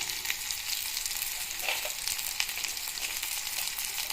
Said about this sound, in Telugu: ఆయిల్ వేసి ఆయిల్ వేడైన తర్వాత ఆవాలు, ఉల్లిపాయలు వేసి దూరగా వేయించుకోవాలి